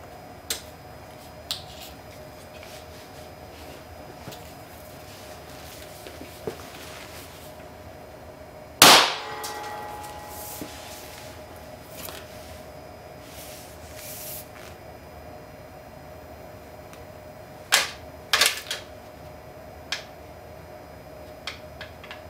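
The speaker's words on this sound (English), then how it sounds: "it's usually the capacitors that actually make the biggest explosion" Capacitors on a computer motherboard burst inside an MRI scanner. A quiet stretch with faint ticks is broken by one sharp, loud crack and then a few smaller pops near the end.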